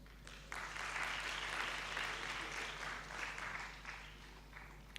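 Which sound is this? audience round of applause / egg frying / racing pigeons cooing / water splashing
audience round of applause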